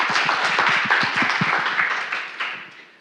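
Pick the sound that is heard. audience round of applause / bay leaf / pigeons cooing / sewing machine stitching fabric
audience round of applause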